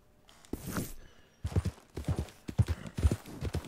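Horse hooves clop along at a walking pace in Red Dead Redemption 2, steady and fairly close, with a brief rustle before the rhythm begins.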